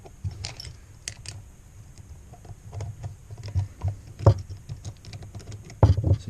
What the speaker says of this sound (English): Next I will take the float ball off. These screws can be extremely stiff.